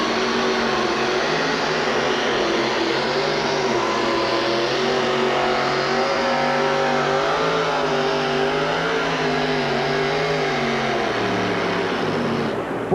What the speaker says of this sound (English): Boy, Gary just cannot get a hold of the track with all the horsepower for the Budweiser Avenger